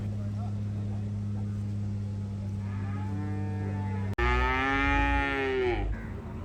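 After a steady electrical hum, a bull lets out one long, loud moo nearby at a cattle market in Manjeri, rising and then trailing off.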